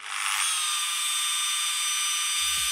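A rotary car polishing machine spins up and runs loudly and steadily, with a dense high whine close to the microphone and a brief low thump near the end.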